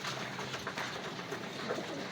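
Soft, low cooing of racing pigeons in a loft on the last training day, murmuring close by over a faint hiss of background noise.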